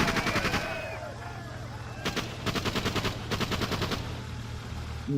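Gunfire in the Just Cause video game: several rapid bursts of automatic shots rattle out over steady game ambience, with fainter voice-like tones near the start.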